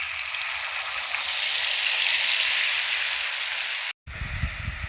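Spice paste for a katla fish curry hits hot oil with a sustained, loud hiss and sizzle, cut by a sudden brief dropout before quieter clattering sounds resume.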